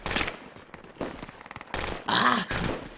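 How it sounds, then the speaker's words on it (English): Gunfire in the Project Reality military shooter, several sharp bursts of rapid shots in quick succession, loud and close, broken by short gaps. "He's shooting at me."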